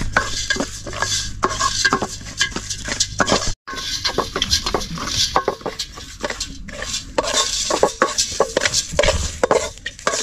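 Puffed rice roasts in a pan over a low flame, stirred continuously with a rhythmic, close scraping and rattling patter of grains and utensil against metal, no talk.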